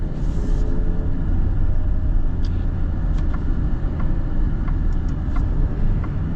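A 2024 Alfa Romeo Giulia Sprint engine drones steadily up close, loud and low, with a few faint clicks and shifts in tone as gears change via paddle shifters in manual mode.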